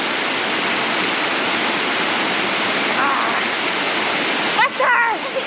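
Kawasan Falls waterfall roaring as a steady, loud broadband rush of falling water throughout, with brief voices and a short shout cutting in near the end.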